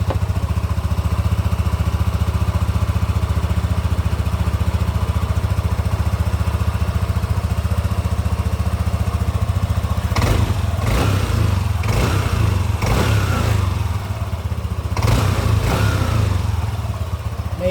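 A Yamaha NMAX V1 scooter engine with a chirping crankshaft fault idles with a steady drone, then revs sharply several times in short bursts, loud and close.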